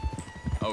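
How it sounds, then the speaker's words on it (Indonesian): Arabian horse hooves clip-clop in Red Dead Redemption 2, a rhythmic series of close hoof beats over game ambience while someone talks over them. "Ini nama tipe kudanya Arabian dan sekarang gue kasih nama Abby."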